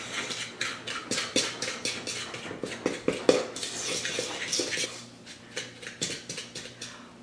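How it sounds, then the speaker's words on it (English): A fork mixes sugar, flour, cinnamon and softened butter into a crumb topping in a bowl, with quick rhythmic scraping clinks against the dish, close and steady, easing slightly toward the end. "Now I'll take a fork and mix this all together."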